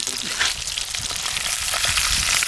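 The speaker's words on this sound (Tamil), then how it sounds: "தரமா மீன் பொரிக்க போட்டாச்சு." Fish for a spicy Madurai-style fry crackles and hisses in hot oil, a dense, even sizzle running the whole time at close range.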